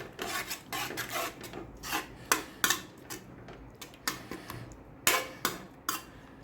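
Boiled banana flower being stirred into a pan for a Tamil kootu, giving a run of close, irregular scraping and rasping strokes of a spoon against the pan, some sharper clinks standing out, with no voices.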